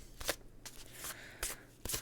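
Tarot cards being shuffled and drawn make faint, close, papery riffles and slaps in several short bursts, spaced about every half second.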